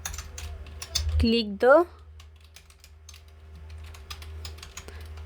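Keystrokes on a computer keyboard while HTML code is typed, soft scattered taps over a steady low hum, with a brief spoken word near the start.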